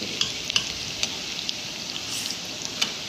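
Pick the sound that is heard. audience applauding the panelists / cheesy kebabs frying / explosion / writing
cheesy kebabs frying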